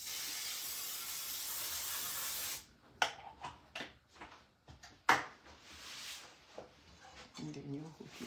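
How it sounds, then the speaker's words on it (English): A steady aerosol hiss of cooking spray runs for a couple of seconds, then stops, followed by a few clicks and knocks of kitchenware. "And you spray the pan"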